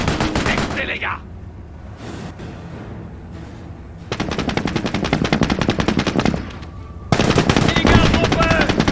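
Machine-gun fire in the World War II strategy game Company of Heroes, with rapid continuous bursts that surge loud and dense across most of the stretch, and a brief lull after the opening seconds. A voice speaks briefly near the start.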